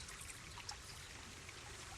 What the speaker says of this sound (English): the important thing is to remember to water them in